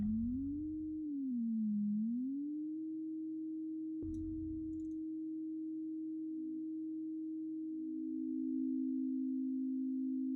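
A steady synthetic tone pitch-bent through the VoiceMeeter effect swoops down and back up, then holds at a fixed pitch with a brief low burst partway through, played alone with no talk.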